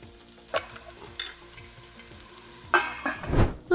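Onions sauté in vegetable oil with a soft background sizzle, punctuated by a few spatula scrapes and clinks against the pan, the stirring getting busier toward the end.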